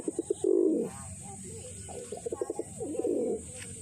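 Breeding western pigeons kept for flying coo close by in throaty, repeated bursts, with short pulsing calls between longer rolling coos over about four seconds under a faint steady hiss.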